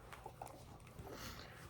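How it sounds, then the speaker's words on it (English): A dog in the background of a room gives faint, muffled yelps and soft whimpers, brief and intermittent over a low background hum. "She's like barking and whimpering for some reason."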